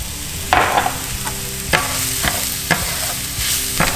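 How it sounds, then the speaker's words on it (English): Arborio rice with browned onions and garlic sizzles steadily in a pan, broken by regular scraping stirs of a utensil, close and fairly loud with no voices. "I'm just gonna toast this rice up just a little bit."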